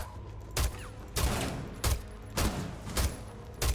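Bursts of gunfire from the Rainbow Six Siege reveal trailer during a hostage rescue, with six loud volleys spaced roughly every half second to second, each sharp and booming over a low background.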